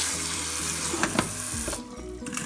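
A kitchen tap runs steadily while canned garbanzo beans from a 15-ounce can are rinsed in a strainer, a close, broad hiss of water with brief splashy changes as the flow hits the beans, with no voices.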